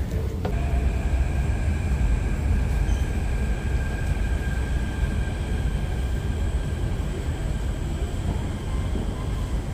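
Riding inside a Singapore MRT train, a steady loud rumble of wheels and motors with a faint high whine running throughout.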